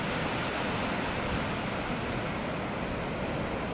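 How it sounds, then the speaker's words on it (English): Ocean waves break on a steeply shelving sandy beach in North East Scotland, a dense, continuous roar of surf that stays steady and fairly loud with no voices. "Drops down pretty quickly, so the waves actually are larger as they come in."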